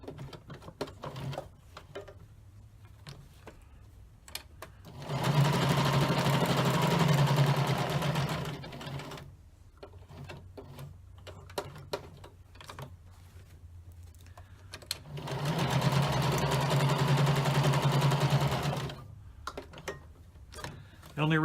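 A sewing machine stitches across fabric seams in two sustained runs of steady motor whir, separated by quieter stretches of small handling noises and brief low talk.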